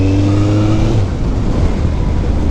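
A Kawasaki GTR 1400 motorcycle fitted with a Dominator exhaust, its engine humming loudly and steadily up close, with a falling tone in the first second that settles into a constant drone.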